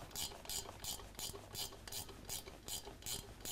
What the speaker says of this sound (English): So we need a 3/8 ratchet wrench